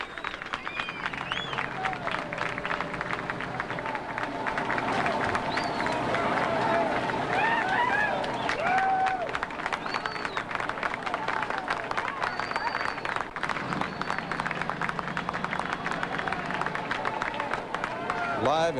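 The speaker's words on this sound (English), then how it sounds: "There's clapping" A crowd claps and murmurs at the 1987 rescue of Jessica McClure in Midland, Texas, with steady applause continuing in the background as a voice talks over it.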